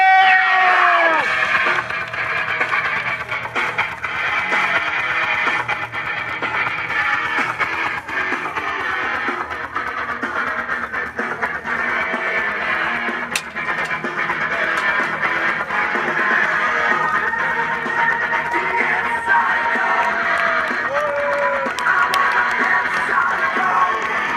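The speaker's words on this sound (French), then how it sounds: "Mesdames et messieurs, un tonnerre d'applaudissements pour Psycho!" Wrestling crowd at a CWF Chtimania event cheering and screaming for a wrestler's entrance, a loud, sustained roar of voices and shouts with clapping mixed in, continuing throughout.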